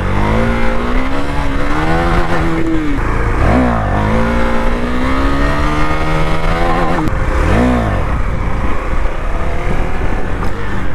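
A KTM Duke 390 motorcycle engine revs loud and close while the bike is held in a wheelie, with rising and falling pitch sweeps as the throttle opens and eases, no talking over it.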